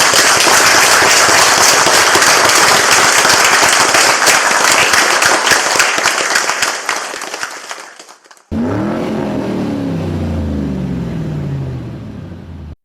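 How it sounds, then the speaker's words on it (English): A crowd at a talk on Indianapolis 500 lore gives a loud round of applause that thins and fades over about eight seconds, then cuts to a different sound with a rising and falling engine-like tone. "Let's give one more round of applause."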